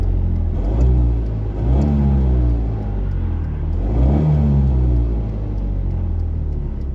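An Alfa Romeo 75 engine runs close by and revs twice, each rise and fall of pitch sweeping over a steady loud idle rumble.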